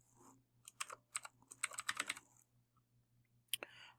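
Keys clack on a computer keyboard in short bursts of quick taps, close and crisp over a low steady hum, with a pause before a final few strokes.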